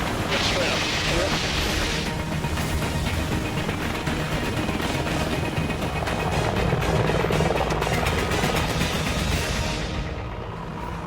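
A rescue helicopter roars continuously nearby, its loud rotor thumping and engine whine filling the scene before easing slightly at the end.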